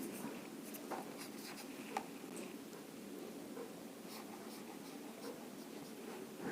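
Chalk or marker scratches and taps on a board during a chemistry lecture on reaction mechanisms, faint, continuous and close over quiet room noise.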